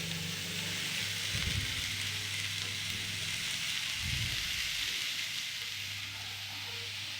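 Chopped snake gourd sautés in a pan for a Tamil poriyal, giving a loud, constant close sizzle with a couple of low scraping stirs and no talk.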